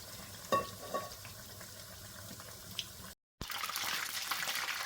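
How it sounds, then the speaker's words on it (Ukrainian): Meat-filled belyashi dough pastries frying in hot oil give a steady close sizzle with small pops, cut by a brief silence before the crackling returns louder. "Жаримо з цього боку Теж три хвилиночки, потім перевернемо і по хвилиночки ще."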